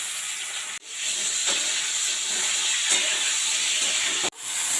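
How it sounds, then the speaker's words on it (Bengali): Green banana and potato pieces coated with turmeric and salt sizzle in hot mustard oil, a loud, close, steady hiss that cuts out briefly twice. "তেল গরম হয়ে গেছে, কাঁচকলা এবং আলু কেটে হলুদ লবণ মাখিয়ে রেখেছিলাম দিয়ে দিলাম।"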